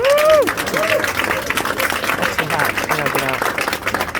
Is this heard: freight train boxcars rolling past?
no